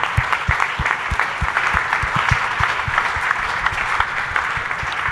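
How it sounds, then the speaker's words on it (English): An audience claps for panelists at a startup week session on raising money, sustained applause close by with a few sharper claps standing out above the steady patter. "let's give our panelists a huge round of applause"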